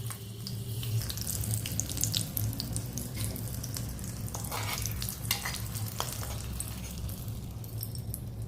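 Chili oil with Kashmiri chili and green chilies being stirred and mixed into raw hilsa fish pieces for paturi, a steady wet squelching and scraping with faint sizzle-like crackle, close and continuous with no talking.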